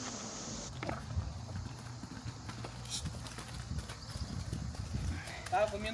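Horse hooves clip-clop at a walking pace on a rural track, a soft irregular clatter under low ambient noise and faint background sounds.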